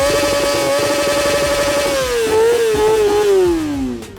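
A Kawasaki ZX25R motorcycle with a full Yoshimura exhaust and the silencer baffle removed, on a closed road. The engine holds a loud, high, screaming rev, then pitch drops as revs fall, close and continuous with no talking.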